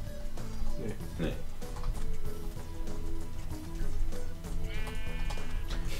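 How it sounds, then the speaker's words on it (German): Sheep in the Minecraft video game bleat a few short times amid steady game music, while a German-speaking player talks over the scene. "Wir nehmen einfach das Schaf und schieben es dahin."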